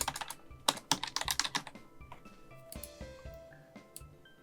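Rapid clattering keystrokes on a computer keyboard come in a quick close burst, then slow into a few sparser, separate taps before trailing off.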